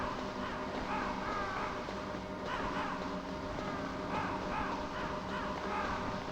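Crows caw repeatedly in the video game Metal Gear Solid, a series of harsh calls rising and falling over a steady, faint ambient background.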